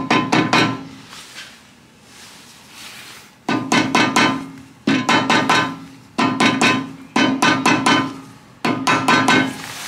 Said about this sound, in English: you want to bang on the sides, not the middle